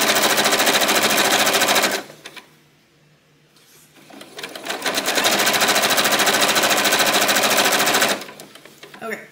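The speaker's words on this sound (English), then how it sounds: "I'm gonna stitch a little bit further down, close the gap up a little bit." A sewing machine stitching quilt binding, running in two loud, close, rapid bursts with a short pause between them and a brief restart at the end, no talk over it.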